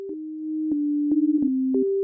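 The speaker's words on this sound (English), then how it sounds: "if I select the most basic option here, which is 8, and turn this knob all the way down, we get a sine wave" A pure sine tone from the Pigments 3 software synthesizer plays as a sequence of steady low notes that shift slightly in pitch, with soft clicks where each note starts, clean and alone.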